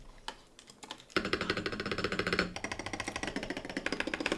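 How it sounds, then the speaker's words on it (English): Rapid, close typing on an MCHOSE Ace 68 Pro mechanical keyboard sounds as a dense run of crisp clacks, with a louder, deeper thock from the spacebar, after a few scattered keystrokes at the start. "The only problem is that the spacebar is just quite loud."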